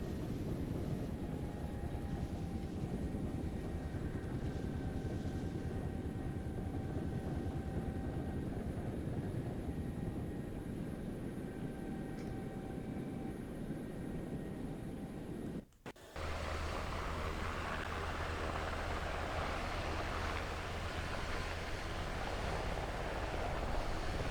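A military aircraft flies during a field training exercise, making a continuous broadband engine drone that holds steady, then drops out abruptly and gives way to a different, lower rumble.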